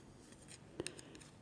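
Scissors snip through knitting yarn while finishing the sleeve of an oversize top-down knitted cardigan: one quiet, brief cut with a second faint click just after, in an otherwise hushed room.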